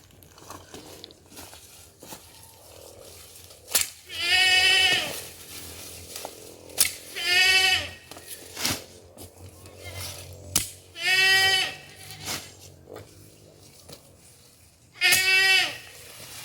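Goats on a farm in Saint Elizabeth, Jamaica, bleat while being fed. Four loud, drawn-out bleats come several seconds apart over faint rustling and low background noise.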